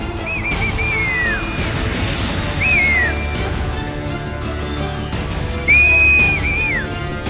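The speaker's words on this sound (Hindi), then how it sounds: "बर्फ का बवंडर जैसे जैसे रिहायशी बस्तियों की तरफ बढ़ा, लोग चिल्लाने लगे, सीटियां बजाने लगे" Loud shrill whistles sound repeatedly during an approaching avalanche, three clear whistle bursts standing out over a constant roaring rumble, with no clear shouting audible.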